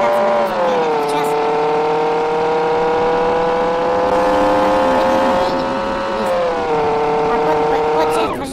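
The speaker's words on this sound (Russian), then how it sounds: "Сейчас я попробую разогнаться на полной скорости." A Volga sedan in BeamNG.drive flooring it to full speed, the engine droning loud and steady with its pitch climbing, dipping at a shift near six seconds and then rising again, while someone talks over it.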